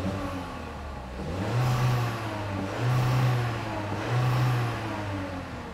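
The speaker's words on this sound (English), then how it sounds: "I'm going to hold the brake and I'm going to do a couple of wide open throttle snaps" A gasoline direct-injection car engine, suspected of carbon build-up, takes three wide-open-throttle snaps while the brake is held: a steady idle rises into three loud, close revs with short drops between them, and no one speaks.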